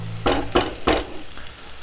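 Bulgur and meat in a pot sizzle as a spoon stirs them, three distinct scraping swishes over a gentle frying hiss, close and without talk.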